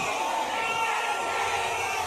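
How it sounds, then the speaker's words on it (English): A large crowd at a Charlotte Hornets NBA draft event boos a selection, a steady dense roar of voices that fills the whole moment without a break. "They're booing."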